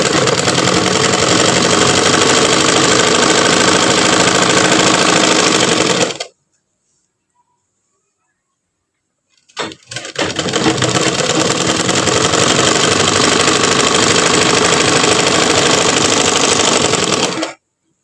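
A sewing machine runs loud and steady while stitching fabric, a fast even mechanical whir that stops for about three seconds, then starts again and runs on before stopping.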